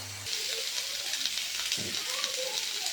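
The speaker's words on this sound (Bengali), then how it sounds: "বেগুনটাকে আগে আমি ভেজে নেব" Eggplant frying in hot oil gives a steady, close sizzling hiss with small crackles and pops running throughout.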